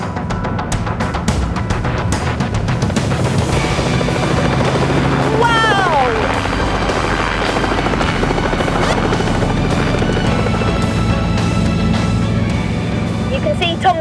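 A helicopter's engine warms up ahead of take-off, its rotor giving a loud, steady, unbroken drone that stays close and constant throughout, with a brief whistling chirp partway through.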